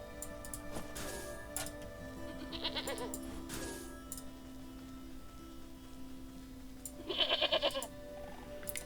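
Goat bleats in a cozy video game, several short nasal calls at about 1 and 3.5 seconds and a louder wavering bleat near the end, over a steady game background hum.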